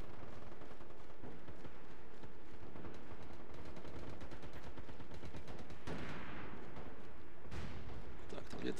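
Dense gunfire in the online shooter MAG, rapid repeated shots crackling continuously at moderate loudness, with a sniper firing from above and a few heavier bursts amid the battle noise.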